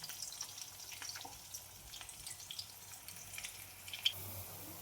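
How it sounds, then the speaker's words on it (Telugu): Ghee sizzles softly in a pan with a faint, continuous crackle and scattered light pops, no voices over it. "కొద్దిగా నెయ్యి వేద్దాం ఫ్రెండ్స్. టీఆర్బి నెయ్యి."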